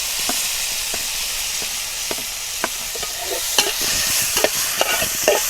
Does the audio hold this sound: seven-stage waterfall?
no